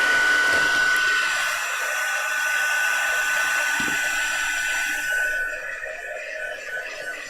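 A handheld dryer blowing over wet hand-coloured die cuts for tags and journal cards: steady close whooshing roar that holds for several seconds, then drops in level near the end, with no speech.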